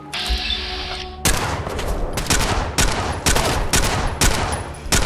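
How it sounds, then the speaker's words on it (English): T60 pistol fire in Fallout 4: a humming tone gives way to a run of loud, sharp gunshots, roughly six or seven heavy cracks spaced unevenly, each with a booming tail, close and dominant. "Let's continue to use our T60 pistol."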